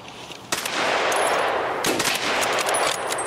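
M4 rifle gunfire in an Escape from Tarkov-style shooter on Customs, a loud sustained automatic burst starting after a brief quiet gap, with sharp shot impacts and ringing tails.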